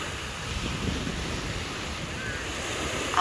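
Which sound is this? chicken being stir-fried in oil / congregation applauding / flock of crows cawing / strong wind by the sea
strong wind by the sea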